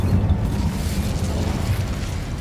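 A fire spell from the Hogwarts Legacy video game bursts out as a loud, sustained low rumbling roar, full and steady for a couple of seconds with no voices over it.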